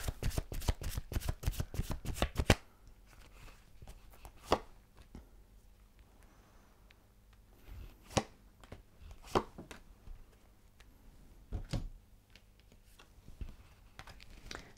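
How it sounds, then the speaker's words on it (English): Romance Angel Oracle cards are riffle-shuffled up close in a rapid burst of crisp flutters, followed by quieter scattered taps and occasional sharp card snaps. "Let's have a couple of Romance Angel Oracle cards."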